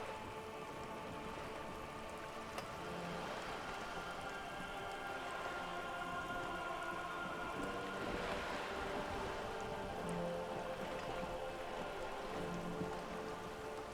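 Steady rain in the Disco Elysium video game, a continuous patter of drops on surfaces forming a dense, even hiss with faint tonal ambience underneath, no speech.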